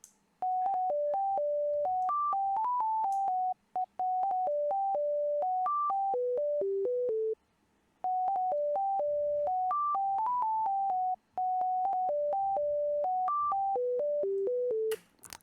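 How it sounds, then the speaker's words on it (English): A dry, unprocessed synth melody from FL Studio's 3x Osc plays a clean single-note line of short steps, repeated in phrases separated by brief silences, alone and moderately quiet. "So then I went in a 3x oscillator and I made this melody."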